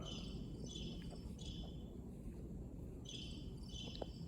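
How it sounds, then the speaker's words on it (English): Faint crickets chirping in repeated high trilling bursts over a low steady background hum. "crickets chirping is the purple box on the bottom"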